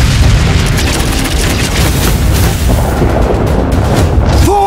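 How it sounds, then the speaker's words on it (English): Railguns and gravitic launch batteries of the Tau Empire firing in the space battle game Battlefleet Gothic Armada: a loud, continuous wall of deep booming blasts and rumble, with no talk. "Gravitic launch battery. Fire! Railguns, fire!"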